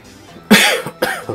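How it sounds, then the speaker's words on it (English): Two harsh coughs from a person with a lingering cough, loud and close, the first longer and the second shorter, about half a second apart, with no other sound around them. "This lingering cough, man."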